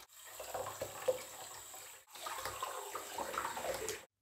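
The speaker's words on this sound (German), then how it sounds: "Und anschließend können wir die einzelnen Bauteile ordentlich mit heißem Wasser sauber machen" Hot water running from a tap over disassembled bottle-trap sink siphon parts, a soft splashing gush in two bursts separated by a brief cut, faint and close.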